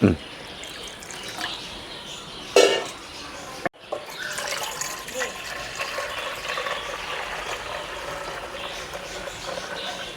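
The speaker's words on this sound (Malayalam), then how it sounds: "ഇനി ഒരു മഗ് വെള്ളം കൂടി" Water splashes and pours steadily from a mug into a container, a gushing fill with a brief louder splash early on, continuing without a break.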